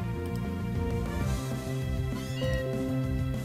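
A Meowth's cry from a Pokémon game, a synthesized cat-like yowl with wavering tones over game music, loud and continuous.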